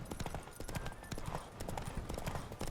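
Rapid, continuous clip-clop of horse hooves at a steady trot in The Witcher 3: Wild Hunt, fairly close, with faint game ambience underneath.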